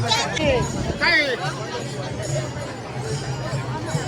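A dense crowd of pilgrims on foot during the Alandi to Pune wari, heard as a continuous murmur of many voices and movement close around, with nearby chatter rising over it.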